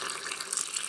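Water gushes steadily into a blender jar while making a vegan meal with wild herbs and sprouts, a continuous close pouring hiss with no talk.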